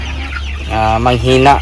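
Chickens kept for sale cluck close by in short, throaty bursts, with a person talking over them.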